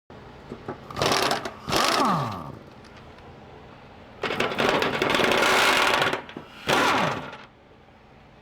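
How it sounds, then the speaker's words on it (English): Rusty lawn tractor mower deck blades are sharpened to restore their edge, heard as four loud, close bursts of harsh grinding separated by quieter pauses. "Put a little bit of edge back on the blades"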